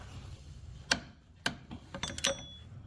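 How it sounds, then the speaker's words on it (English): A small ratchet on a 12mm socket works a bolt loose on a Honda Accord power steering pump, giving a few sharp, close metallic clicks and ticks, the last ones bunched together, with no talk. "I just used this small little ratchet here"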